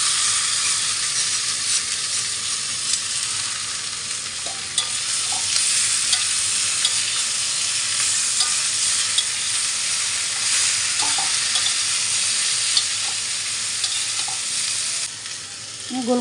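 Mixed vegetables stir-fried with softened onions for a Chinese-style vegetable dish, giving a loud, continuous sizzle with steady stirring scrapes throughout and no voices.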